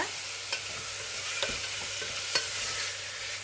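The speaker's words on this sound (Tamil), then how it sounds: "இப்போ ஆட் பண்ணதுக்கப்புறம் நல்லா வதக்கி விட்டுருங்க" Chicken pieces with bones sautéing in a pan for chicken salna, giving a steady broad sizzle with a few light spoon taps as they are stirred.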